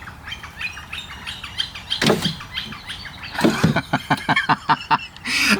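Woodpeckers calling with sharp chirps, followed by a quick series of tapping pecks, moderately close with no talking.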